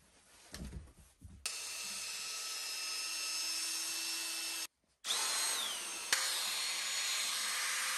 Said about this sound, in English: Just put these on my drill, rubbing compound.